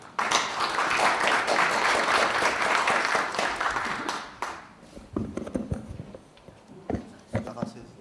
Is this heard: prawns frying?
no